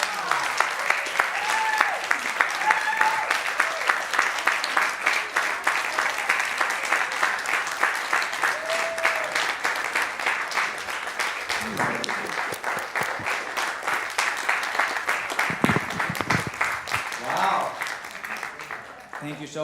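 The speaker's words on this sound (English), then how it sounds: "you can all give him a round of applause" Audience applause for a newly introduced minister at a Sunday church celebration service, steady sustained clapping from a crowd lasting the whole stretch, with some voices and cheers rising near the end.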